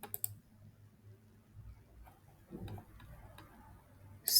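Computer mouse clicking on Next, several sharp, quiet clicks spaced irregularly over a faint low background hum in a quiet room.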